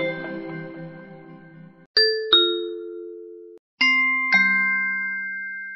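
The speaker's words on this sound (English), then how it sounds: "If you press doorbell sounds, you can change the sound your bell makes." An Echo Show 5 plays Ring doorbell chime tones, clear and close: a fading tone, then two quick paired ding-dong chimes a couple of seconds apart, with each ring decaying cleanly into silence.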